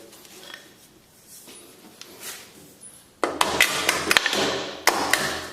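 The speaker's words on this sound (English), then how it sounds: "Might have to grab the old trusty hammer." A steel hammer strikes metal parts while a go-kart engine is bolted in place: quiet handling sounds first, then a burst of sharp, close, ringing blows in quick succession, with a last hit near the end.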